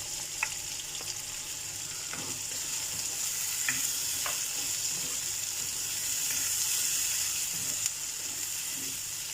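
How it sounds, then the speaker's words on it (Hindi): Chopped tomatoes fry in a pan for Lahori chikar cholay, giving a continuous bright sizzle with soft scrapes and taps of stirring throughout, close and steady, with no talking. "अब थोड़ी देर इसको 2 मिनट इसको फ्राई करना है कि टमाटर हमारा सॉफ्ट हो जाए"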